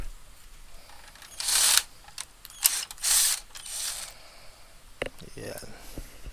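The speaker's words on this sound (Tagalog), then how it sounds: "May isang tornilyo pa. Teka lang. Tanggalin natin yan." A screw is worked out of an Epson L3210 printer, with bursts of ratcheting clicks and mechanical rasps, short knocks and a voice speaking quietly in between.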